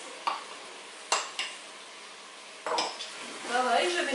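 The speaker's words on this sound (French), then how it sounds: "Pareil, je mélange le tout." Tomato paste mixture stirred in a pan, with a few scraping clinks of utensil against metal and a soft sizzle underneath, quiet and close with gaps between strokes.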